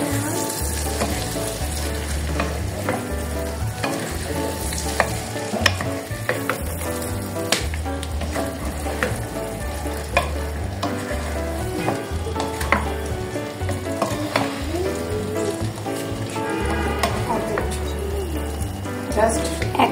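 Barramundi fish frying in oil, a dense crackling sizzle that pops and spits steadily throughout, with faint voices in the background.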